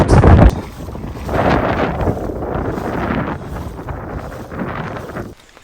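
Strong wind buffets the microphone while a kayaker paddles between two islands at low tide. A continuous loud roar surges and eases throughout.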